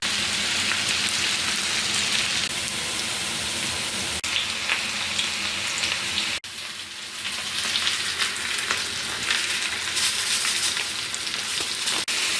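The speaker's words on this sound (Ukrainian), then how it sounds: "Картопельку трішки обжарила, додала репчатий лук, болгарський перчик і морква." Potatoes, onion, bell pepper and carrot fry in a pan for a vegetable stew, giving a continuous, close, dense sizzle with a brief stir-like disturbance midway.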